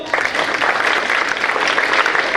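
High school students at a science exhibition clapping together, a dense close burst of applause that holds steady throughout.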